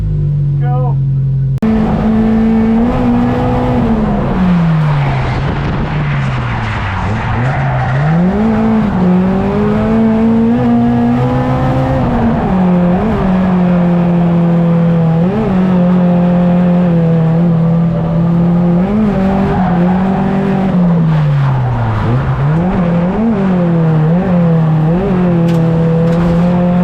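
A Toyota AE86 race car engine revs hard and holds a loud, steady note close by, its pitch rising and dipping repeatedly through the corners for almost half a minute.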